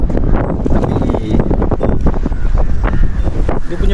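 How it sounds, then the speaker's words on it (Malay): Strong wind buffets an outdoor scene in Sekinchan in the mid-afternoon, roaring and gusting hard across the microphone in continuous, uneven blasts with no clear pauses. "Oh angin kuatnya."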